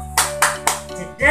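Children's hand-clapping rhyme led by a teacher in a classroom police-themed game: three crisp claps in steady rhythm, close and clear, followed by a brief voice.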